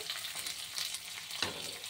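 Tempering spices and dried red chillies crackle and sizzle in hot oil in a pan, with a steady frying hiss broken by a few louder spatters and stirring scrapes.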